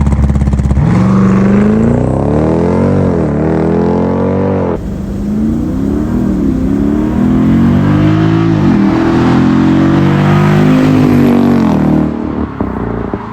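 A 2024 Dodge Durango 392 SRT's 6.4-litre HEMI V8, paired with an 8-speed automatic, revs loudly and close by, rising and falling through repeated throttle blips before settling into a deep, rumbling idle.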